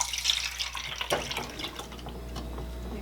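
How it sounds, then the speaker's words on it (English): Pineapple juice draining through a strainer into a measuring cup, a steady close trickle and patter of liquid with a few louder drips over a low hum. "I'm just going to go ahead and use a strainer over a cup"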